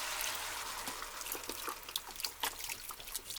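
Chicken stock pours steadily into a pot, a close, continuous trickling splash with small gurgles and no voices.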